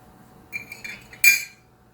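A utensil stirring sugar in a pot to caramelize it clinks against the metal a few times, ending in one louder ringing scrape, all close and without speech.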